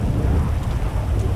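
Steady heavy rain with a low rumbling undertone in GTA V, a continuous dense hiss and roll with no distinct crack, fairly loud and close.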